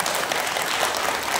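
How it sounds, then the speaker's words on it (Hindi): An audience claps together in a lecture hall, a dense, loud wash of applause that holds steady across the whole short stretch without pauses or voices. "एक बार हम ताली बजा लेते हैं"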